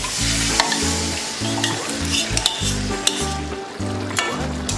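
Prepared sauce thickened with cornflour being poured into a pan of restaurant-style chilli chicken, a loud close sizzle with repeated rhythmic scraping stirs and metal clinks, no talk.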